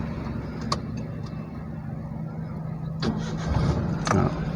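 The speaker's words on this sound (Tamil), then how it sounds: "வண்டியை ஸ்டார்ட் பண்ணுங்கள்." A car engine cranks and catches during a driving lesson, with short starter bursts and a steady low idle hum underneath, close and moderately loud.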